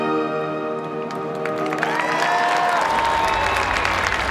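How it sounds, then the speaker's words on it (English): Applause from a golf ceremony audience, a broad steady clatter of clapping with some cheering, joined by sustained musical tones rising underneath. "Ladies and gentlemen, another round of applause."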